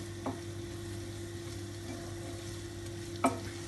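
Bulgur is stirred in a pan with oil for a tomato vegetable pilaf, a soft, steady sizzle under a low hum, broken by two brief spoon scrapes against the pan, and no talk.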